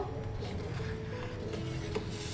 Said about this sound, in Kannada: ಇಷ್ಟನ್ನು ಹಾಕಿ ನೀಟಾಗಿ ಕೈ ಆಡಿಸ್ಕೊಬೇಕು.